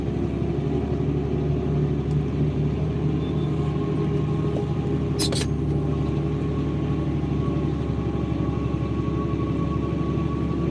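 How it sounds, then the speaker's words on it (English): Steady low engine drone inside a tractor cab during vertical tillage in the fields, constant and loud throughout, with a faint brief click partway through. "with the tractor noise and whatnot"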